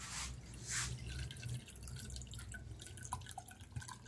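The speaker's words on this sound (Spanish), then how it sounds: "Y voy a echar agua." Water poured onto the OLED AMOLED screen of a phone, heard as faint, scattered drips and light splashes against a quiet background.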